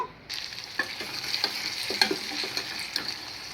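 Tomato pieces sizzle in a pan of spiced pepper rasam, a steady close frying hiss broken by several soft scrapes and taps as the mixture is stirred.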